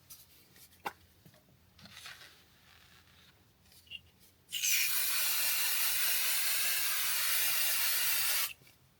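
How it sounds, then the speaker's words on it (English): After a few faint handling sounds, an aerosol can of basting adhesive sprays onto fabric in one loud, steady hiss lasting about four seconds, then stops abruptly. "So I'm going to use some basting"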